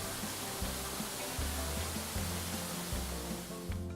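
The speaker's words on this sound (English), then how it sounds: "The first waterfall at Bee Cove Falls is a twin waterfall, as the rocks split the creek at the top." The twin waterfall at Bee Cove Falls, where rocks split the creek at the top, produces a constant, soft hiss of falling water, even and unbroken throughout.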